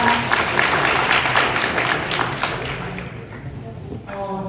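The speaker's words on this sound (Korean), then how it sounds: "좋은 강의를 해주신 강사님께 다시 한번 박수 부탁드립니다" An audience at a pest-control training lecture claps for the instructor, steady applause that fades slightly toward the end, with a voice briefly heard.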